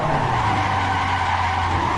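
Tires on a race car skid and squeal as it spins out in the Assetto Corsa driving game, a loud continuous screech over the low drone of the engine, with no talk over it.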